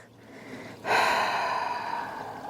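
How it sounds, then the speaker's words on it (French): A slow, breathy exhale through an open mouth during yoga breathing begins after a near-silent pause, then a long, soft airy rush that gradually fades, close and alone. "Puis ouvre ta bouche et expire"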